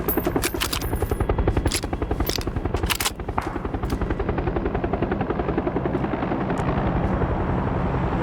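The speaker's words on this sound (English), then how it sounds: "Another shot to my right." Gunfire in PUBG, several sharp shots cracking early over the steady loud thrum of a helicopter that dominates the whole scene.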